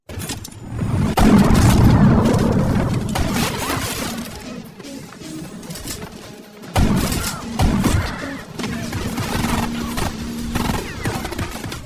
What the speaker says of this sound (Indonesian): Baku tembak pun berlangsung dengan sengit.